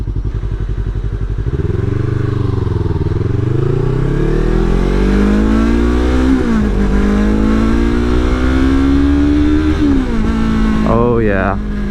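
Yamaha R3 motorcycle fitted with an Akrapovic slip-on exhaust revs loudly up to higher RPM, rising and falling in pitch with several throttle blips, close and continuous.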